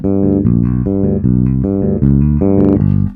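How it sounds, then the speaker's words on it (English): A short country bass line is fingered with only the first and second fingers on electric bass, its plucked notes moving in a quick, even walking rhythm, played alone and up close. "this bass line can work really well with just using your 1st and 2nd fingers,"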